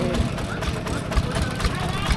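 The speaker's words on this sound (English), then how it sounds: "Have a little tractor ride." A tractor engine chugs steadily throughout a short ride along dusty village farm tracks, its rough low rumble running underneath people talking close by.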